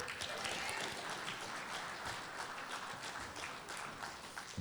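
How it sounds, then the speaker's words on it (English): An audience at a spring middle school band concert claps steadily as the 8th grade band comes up, dense applause throughout with some crowd murmur underneath. "You can clap for Grant."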